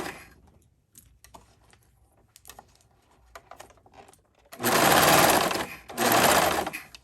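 A sewing machine runs in two loud, close bursts of rapid stitching, trimming the excess threads from a bridesmaid dress, after a stretch of faint clicks and handling noises.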